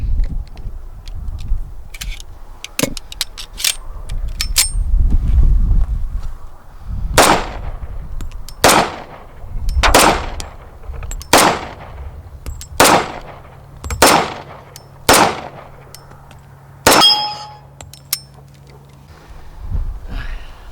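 Sig Sauer STX 1911 pistol in .45 ACP fires about ten sharp, loud shots outdoors, spaced roughly a second or two apart, after some quieter handling noise at the start.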